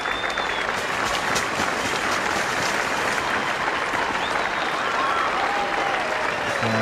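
A cricket crowd at a 1988 West Indies versus Pakistan one-day international applauds steadily, with dense, loud, continuous clapping throughout and faint voices mixed in.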